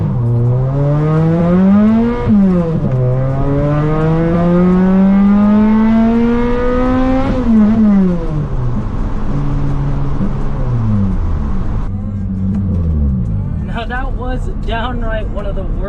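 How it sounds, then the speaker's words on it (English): Supercharged manual Toyota Celica doing a 0 to 60 run, the engine note rising steeply through several gears with clear drops at each shift, loud and close from inside the car, with a voice talking over it near the end. "this is our first 0 to 60, no nitrous, just supercharger"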